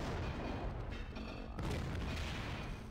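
Dense rumbling explosions and booming blasts in the video game System Shock 2, loud and continuous, with a brief dip before a second heavy burst.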